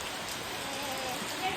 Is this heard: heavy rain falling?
yes